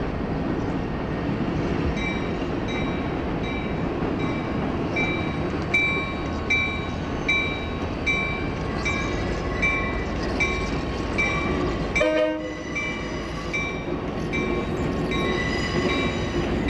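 A steam pusher locomotive train rumbles steadily nearby with continuous low roar, high metallic tones and squeals, and a brief clanking burst near the end, in winter.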